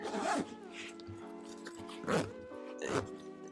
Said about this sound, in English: Right, so we're gonna zip that up.